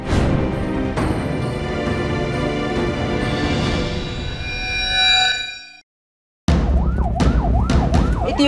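Wailing ambulance siren inside an ambulance rushing a man to hospital, loud and continuous with dense cabin and road noise, cutting out briefly before returning as a sharp, rapidly rising and falling yelp.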